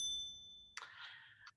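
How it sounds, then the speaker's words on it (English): A bright notification bell ding with a ringing tonal strike followed by a short shimmering chime tail, clean and isolated with no talking. "Click the notification bell."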